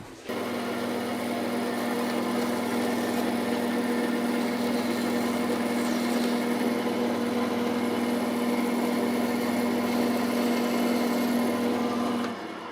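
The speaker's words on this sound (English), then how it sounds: "I'll just do one side of this on the bandsaw, trim that" A bandsaw trims wood for a Shaker peg rail, giving a steady, continuous motor hum with a constant tone for about twelve seconds before it begins to wind down; no voices are heard.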